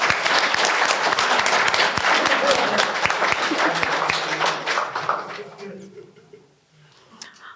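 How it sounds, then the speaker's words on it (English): A graduation ceremony audience gives dense, steady applause that carries for about five seconds, then thins and fades out to near silence. "Can we give them also a round of applause?"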